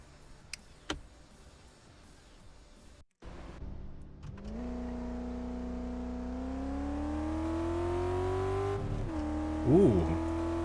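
A car engine in Car Mechanic Simulator 2014 on a test drive, idling, then revving and rising in pitch as it accelerates, holding a loud steady drone with a brief squeal near the end; a voice talks over it at times.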